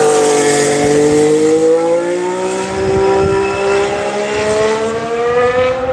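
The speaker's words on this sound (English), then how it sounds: "Here comes the Ferrari." A Ferrari Formula 1 car passes on track during testing at Barcelona, its high-pitched engine whine loud and sustained, shifting pitch as it approaches and goes by, heard alone.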